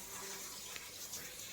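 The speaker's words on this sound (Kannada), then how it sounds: "ವೆಜಿಟೇಬಲ್ಸ್ನ ವಾಶ್ ಮಾಡ್ಕೊಳ್ಳೋಣ" Vegetables rinsed under a running kitchen tap make a steady, close rush of water that stays even for the whole short moment.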